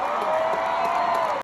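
A crowd at a rap performance applauds and cheers, a loud sustained roar of clapping and voices that stays constant for the whole short moment before cutting off abruptly.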